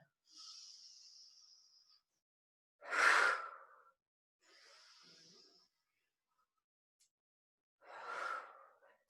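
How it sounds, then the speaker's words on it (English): Deep cleansing breaths taken during a yoga balance sequence: airy inhales alternate with heavier, louder sighing exhales, four distinct breaths close to the microphone with silence between them. "Take 3 cleansing breaths."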